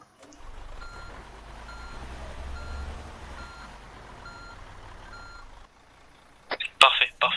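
Truck reversing beeps in a roleplay video game: a steady rumbling engine drone for several seconds, then a rapid burst of loud, sharp electronic beeps near the end.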